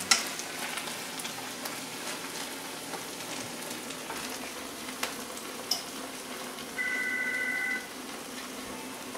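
Mushrooms frying in a pan, a dense continuous crackling sizzle with scattered pops, close and steady, and a brief electronic beeping tone near the end.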